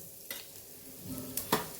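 Asafoetida sizzles in hot oil in a pan for Kathiyawadi okra curry, a faint steady crackle marked by a few sharp spoon clinks and a brief scrape, with no voices.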